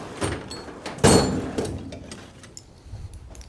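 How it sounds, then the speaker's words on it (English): A ratchet clicks as it turns a fastener on the saddlebag latch of a 2025 Harley-Davidson Road Glide CVO ST: short, close mechanical pawl clicks in quick bursts, loudest near the start, with no voices. "Get a ratchet."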